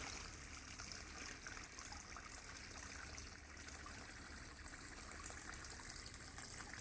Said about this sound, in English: Actually, some running water back here.